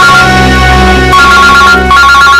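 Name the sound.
telephone ringing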